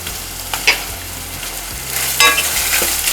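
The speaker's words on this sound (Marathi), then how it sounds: "आता याच्यामध्ये मी कडीलिंब घालते" Curry leaves dropped into hot oil as a tempering for Marathi varan phal, crackling in a loud, close sizzle with sharp spluttering bursts that settle into a continuous fry.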